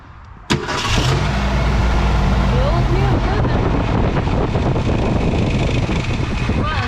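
An abandoned 1972 Ford Pinto 4-speed's engine is cranked to pump fuel: a sudden loud start, then sustained droning cranking under buffeting wind noise, running to the end.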